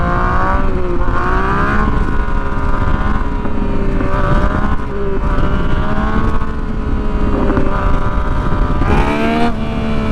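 A Yamaha FZ09 motorcycle on the move gives a loud, steady engine drone, its pitch rising and falling as the throttle changes, with wind rush throughout and no talking.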